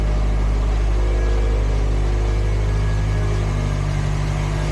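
A 2006 Subaru WRX STI running slightly lean sits idling, a loud, steady low engine drone with a constant hum and no revving, close to the car.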